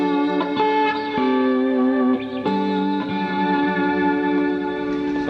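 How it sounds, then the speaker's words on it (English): Clean electric guitar run through a compressor and reverb into channel one of a Custom Audio amp, ringing sustained chords and notes with a wet reverb tail, steady and loud with no talking. "all that is right now is just compressor and reverb and channel 1 of the amp, of the custom audio amp"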